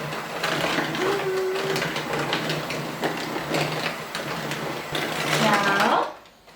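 Electric mixer whirring steadily through cookie dough for a healthy chocolate cookie recipe, a continuous motor drone that swells near the end and then stops, with voices talking over it.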